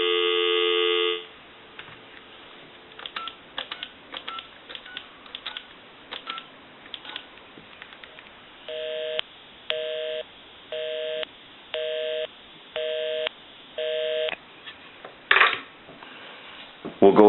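A repaired Thomas limited edition telephone sounds a tone, then a string of clicks followed by evenly spaced repeating tone bursts like a busy signal, clear and close on the line.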